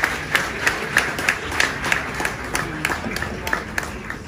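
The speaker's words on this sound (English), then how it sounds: "Ladies and gentlemen, a big round of applause." Applause from an audience at a World Lebanese Cultural Union award ceremony: a crowd clapping together with a strong, regular rhythm, each beat sharp and close, repeating steadily to the end.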